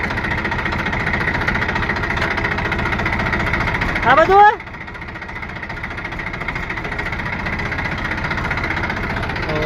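A tractor engine chugs steadily at idle, briefly revs with a rising whine, then settles into a lower, even running drone while someone speaks.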